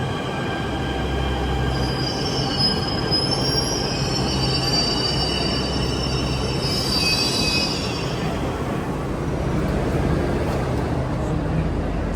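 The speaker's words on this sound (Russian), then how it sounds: "Едет наш поезд, ребята." A Delhi metro train rolls in with steady rumbling and high, sustained wheel squeals that rise and shift, loud and close throughout.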